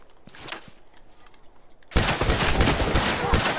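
Gunfire in a video game, a sudden loud burst of rapid shots that starts partway through after a quieter stretch of faint clicks and steps, continuing densely to the end.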